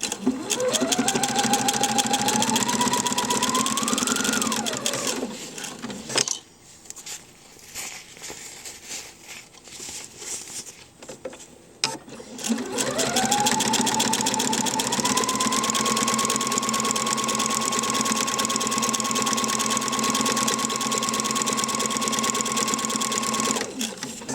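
Close, loud sewing machine stitching two layers of PUL fabric in two runs, a steady whirring hum that rises at the start, stops for a few seconds in the middle, then runs evenly to the end.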